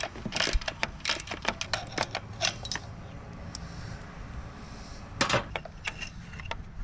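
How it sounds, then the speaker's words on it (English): A ratchet fitted with a 1/2-inch socket loosening the starter bolts on a Husqvarna YTA 18542 riding mower, heard as close bursts of rapid clicking in a few separate runs with metallic clinks and no talking. "1/2-inch socket, take the starter bolts off."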